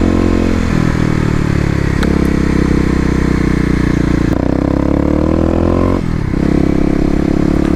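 Stage 1 Kawasaki KLX250 dirt bike riding fast on off-road OHV trails, its engine loud and close, droning steadily with shifts in pitch as it revs and changes gear, plus faint clatter, no talk.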